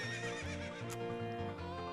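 Epona the horse from the Zelda Ocarina of Time video game gives a loud, sustained whinny over game music, with a brief clip-clop of hooves.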